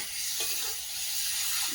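Meat tipped into a pan of fried spice paste, a dense continuous sizzle and hiss, close and steady with no voices.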